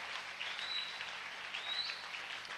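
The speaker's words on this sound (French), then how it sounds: "Applaudissez pour le Seigneur." A church congregation applauds in a steady, soft wash of clapping from a distance, fairly faint and unbroken, with a faint high squeak briefly rising above it.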